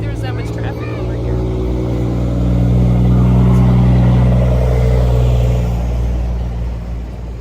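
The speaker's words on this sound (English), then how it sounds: "I didn't think there was that much traffic over here." Road traffic passing near a roadside spot, a steady engine rumble that swells as a vehicle goes by and then fades, loud and close, with a person talking over it.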